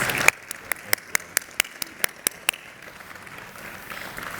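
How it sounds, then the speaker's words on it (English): At the close of a talk on athletes as business leaders, about ten crisp, evenly spaced hand claps ring out in a quick steady rhythm. They stop after a couple of seconds and leave a low murmur of room noise. "If we could give them a round of applause."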